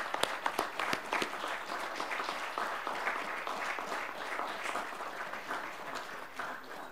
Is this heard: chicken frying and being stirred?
no